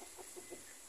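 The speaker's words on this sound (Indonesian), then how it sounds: "dan ayam betina, ini jenis ayam kampung." Soft clucking from free-range village chickens (ayam kampung) at the edge of a village near rice fields, three brief faint clucks over a steady hiss.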